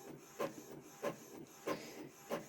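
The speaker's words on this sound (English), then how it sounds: "so I'll send it to my trusty printer" A sublimation inkjet printer runs through a print job, its head carriage sweeping with a soft rhythmic rasp about every half second. The sound is quiet and steady with no voices.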